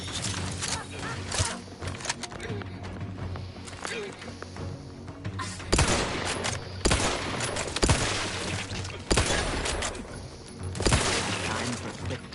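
Gunfire in the video game The Outer Worlds 2 comes as repeated sharp bursts and volleys over a busy game backdrop, with a voice speaking during the action.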